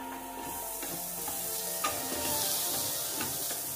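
Cooked vegetables with fresh coriander sizzle in a pan while being stirred, a steady close frying hiss with light scraping strokes of the spoon, no speech.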